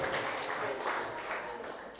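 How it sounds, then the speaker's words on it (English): Audience applause fills a hall at a national party youth event, a steady, dense wash of clapping that holds at an even level throughout. "give her a round of applause again, ladies and gentlemen"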